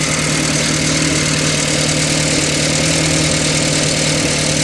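A car engine idles steadily during an ignition tune-up with distributor timing adjustment, a constant low rumble with a steady hum and no variation in speed, no voices over it.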